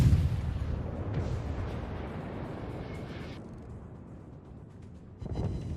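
Heavy naval gunfire from a cruiser in World of Warships, a loud booming blast up front that rumbles and fades over several seconds before a second burst lands near the end.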